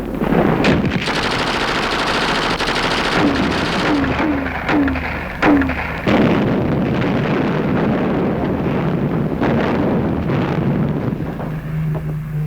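Mortar and field artillery fire from World War II combat footage around the Overlord campaign: sharp repeated blasts and rattling bursts over a constant roar of wind-like noise, with no speech.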